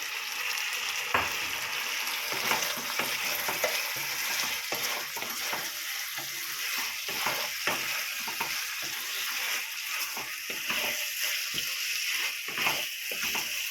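Fried chicken pakoras stirred in a sizzling pan for chilli chicken, soft continuous frying hiss punctuated by repeated clicks and scrapes of a spatula against the pan.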